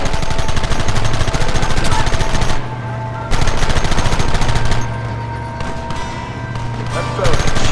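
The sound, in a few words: gunfire in the video game Red Dead Redemption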